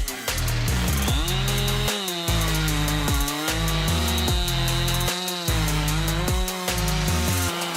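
A Husqvarna 585 chainsaw with a hexa chain cutting through large logs, loud and close, the engine screaming under load then dropping back in repeated bursts as each cut bites and releases.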